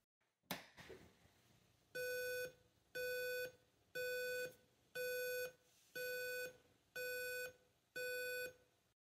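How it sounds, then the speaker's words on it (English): After a click, an Arduino drives a speaker through a regular on-off cycle, sounding seven evenly spaced bright electronic tone beeps, each about half a second long with equal gaps of silence. "I'll use the tone function and set up a simple on-off cycle that outputs to pin 11"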